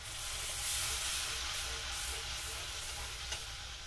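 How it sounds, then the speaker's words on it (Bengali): Spice paste frying for a spicy rui fish curry gives off a loud, steady hiss and sizzle once water hits the pan, with faint stirring and no talking. "তো এখন আমি এখানে একটু পানি অ্যাড করে দিচ্ছি।"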